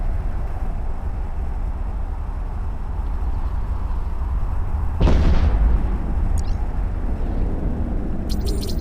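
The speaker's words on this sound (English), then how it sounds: "Scrambled, webbed, barrage engaged." Barrage autocannon weapons open fire in the space game EVE Echoes, a loud burst of rapid firing suddenly over a steady low engine hum, followed by a few brief sharp pings.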